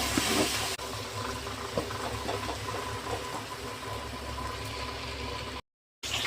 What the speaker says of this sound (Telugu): గిన్నెలో వాటర్ ఉంటుంది కదా, అది కొంచెం వేసుకోవచ్చు, మసాలా అడుగు పట్టుకోకుండా